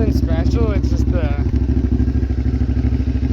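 Idling EFI Kawasaki Brute Force 750 ATV with a full Muzzy exhaust, dyno tuned, giving a loud, steady, close-up rumble that throbs evenly throughout while someone talks over it at the start.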